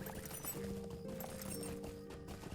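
Horse hooves clip-clop steadily in the fantasy MMO Lord of the Rings Online, a running rhythm of hoofbeats layered over continuous game music and ambience, with no talking.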